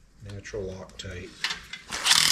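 A wrench ratchets on a stuck bolt on an old mini radial engine until the bolt twists off. Close, uneven clicks and grinding creaks come in short bursts, with some voice mixed in.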